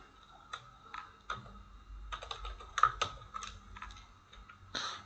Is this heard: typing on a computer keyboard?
yes